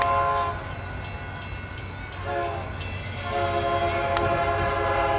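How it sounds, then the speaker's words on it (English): An Amtrak train led by an SC70 locomotive passes through California's Central Valley, a loud steady rumble of rolling cars with a prolonged horn blast sounding over it and a brief sharp whistle-like tone near the end. "here comes the SC70 Emily"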